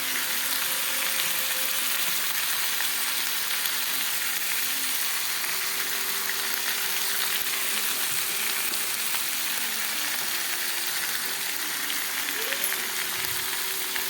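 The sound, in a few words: frying ginger and cumin paste with chili and turmeric powder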